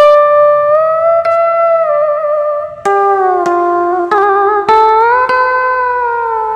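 A sampled Vietnamese dan bau monochord plays on a Korg Pa1000 keyboard, sustained sliding notes bending in pitch with a few sharp plucked attacks, loud and solo without talk.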